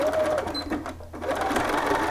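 A sewing machine back-tacks a garment seam at the yoke, its steady close whirr running almost continuously with a brief slowdown midway as the stitching reverses direction.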